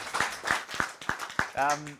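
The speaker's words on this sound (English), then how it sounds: "Big round of applause for Sam" Scattered, fairly close hand claps ring out at a young founders incubator showcase, spaced in a loose rhythm of about one every third of a second, before a voice cuts in near the end.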